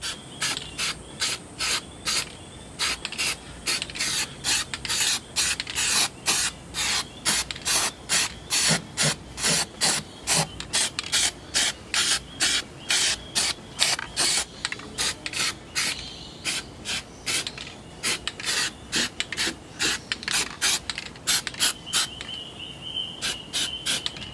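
Rust-proofing coating sprays onto a Jeep underbody in rapid repeated short hissing bursts, loud and close, in a steady pulsing rhythm with no talk.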